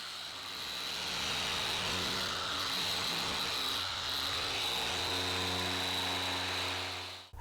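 A small Max Shine mini polisher whirs steadily up close on a BMW 328i's headlights with a constant high hum, its pitch settling into a steadier drone partway through.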